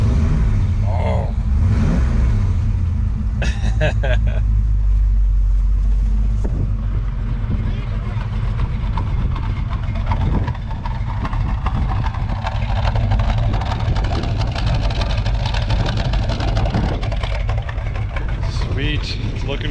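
A 1966 Ford Mustang with a Blueprint 347 stroker V8 rumbles loudly close by, blipping the throttle early then settling into a deep, slightly choppy idle, with people talking now and then over it.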